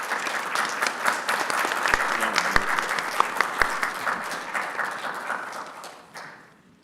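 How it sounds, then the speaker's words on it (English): An audience applauds a panel at a research ethics event on health equity, with steady, dense clapping that holds for several seconds and then tapers off toward the end. "So there's one last round of applause for our panel."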